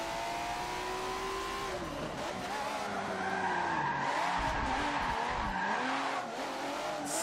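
An Acura NSX spins out in Forza Motorsport 7, its tires squealing and skidding continuously over the engine's rising and falling whine, loud and close for several seconds.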